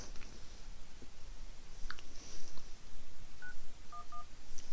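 Telephone keypad tones as someone dials the police, a few short beeps in a quick sequence with small clicks, quiet and heard alone.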